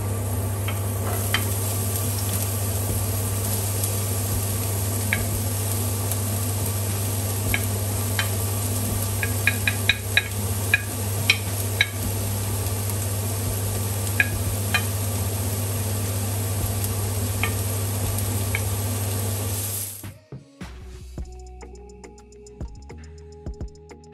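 Onion and garlic sautéing in olive oil for fideua negra give a loud, steady close sizzle with scattered small pops and ticks, then stop abruptly near the end, leaving a quieter room with faint clinks.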